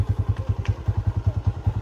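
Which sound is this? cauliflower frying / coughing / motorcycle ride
motorcycle ride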